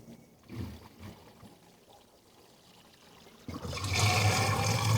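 Water pouring from a raised cistern into a tank on a wildfire mobile attack unit, starting as a low trickle and swelling into a loud, steady rushing flow.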